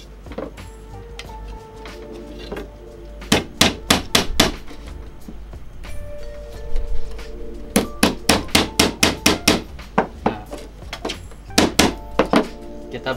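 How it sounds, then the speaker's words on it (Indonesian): Nails hammered into a wooden frame for a water filter for a hydroponic setup, sharp rapid hammer blows in several bursts with pauses between them, close and loud. "Pertama kita paku dulu bagian atas."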